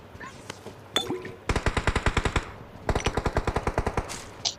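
Rapid bursts of M16 automatic fire in the mobile battle-royale game PUBG Mobile, inside an apartment building, two sustained volleys of sharp evenly spaced shots after a few scattered thumps, loud and close with no talk.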